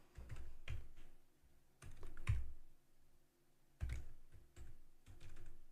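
Keys clatter on a computer keyboard in short uneven bursts of typing, close and fairly quiet, with brief pauses between flurries and no voices.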